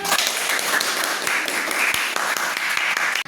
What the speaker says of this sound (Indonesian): Sama-sama tepuk tangan dulu.